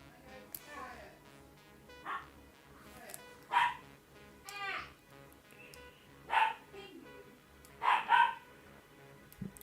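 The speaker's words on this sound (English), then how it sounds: "sorry if you hear my dog in the background" A pet dog barks and yips now and then in the background, short bursts spread across the moment, with a person talking throughout.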